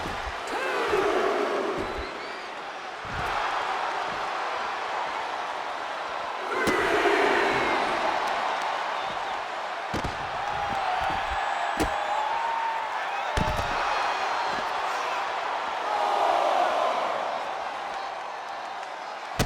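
Wrestling crowd at an influencer wrestling event cheers and roars in swelling waves over nearly twenty seconds, with thumps and slams from the ring and commentary talking over it.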